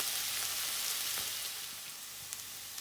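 Onions sautéing in a pan with curry leaves for a village-style Tamil fish curry, giving a steady, close hiss of frying with a few small crackles and pops.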